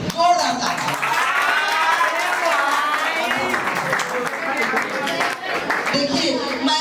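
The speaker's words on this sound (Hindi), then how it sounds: "top 4 2026 the best student nominees सत्तू सतेंद्र, जोरदार ताली" An audience claps and cheers loudly and steadily for a student nominee at a school event, the applause dense and close and continuing for several seconds, with a voice speaking over it.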